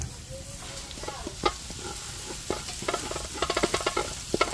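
Leftover steamed rice frying in a pan for breakfast fried rice, with a soft sizzle under frequent stirring scrapes and taps that grow busier toward the end.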